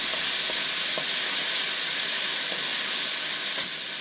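Chopped garlic sizzling in hot oil in a stir-fry pan, a steady, close, loud hiss and crackle that continues without a break, with a few faint clinks and no talking.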